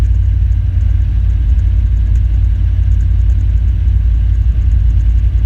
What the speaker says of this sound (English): it's always very important to make sure your engine's warmed up sufficiently before takeoff